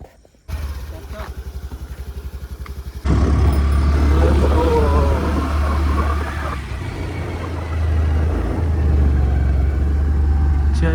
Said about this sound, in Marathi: गाडी पण स्टार्ट केली